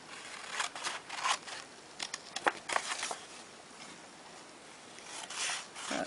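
Scissors snip through paper for pop-up cards in a series of quiet, close, crisp cuts, some bunched together in quick bursts and others spaced apart.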